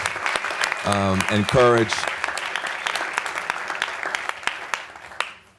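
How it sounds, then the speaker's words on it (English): Audience applause at a Lessig for Warren campaign event, steady clapping filling the room for several seconds while someone speaks briefly over its start. "I think we should give Zephyr a round of applause on her own for her extraordinary leadership"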